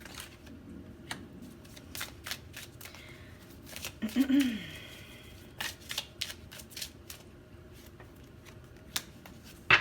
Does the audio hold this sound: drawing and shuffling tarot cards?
yes